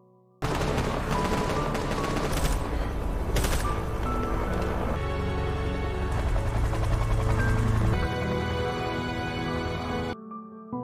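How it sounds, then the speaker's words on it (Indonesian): A helicopter drones loudly throughout while bursts of machine-gun fire crackle over it, dense and continuous, ending abruptly. "tiba-tiba saja muncul sebuah helikopter yang langsung menembaki para zombie tersebut"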